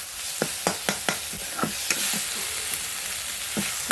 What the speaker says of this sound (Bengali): এটা অল্প নাড়াচাড়া করে নিব।